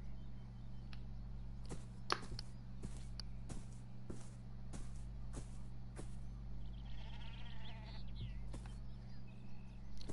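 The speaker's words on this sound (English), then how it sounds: "Ooh, sheep." Sheep bleating in the video game Beyond Eyes: a faint wavering bleat rises near the end over a steady low hum, while sharp scattered clicks and taps recur throughout.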